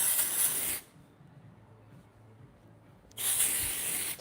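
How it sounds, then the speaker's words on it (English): Two bursts of aerosol spray, each under a second long, separated by a few seconds of near silence; close and fairly loud. "I'm gonna spray it in my hair."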